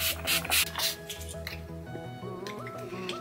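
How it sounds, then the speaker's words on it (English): Urban Decay All Nighter setting spray gets several quick hissing spritzes in a row, close to the mic, with music playing underneath. "I'm gonna go in with my All Nighter Urban Decay setting spray"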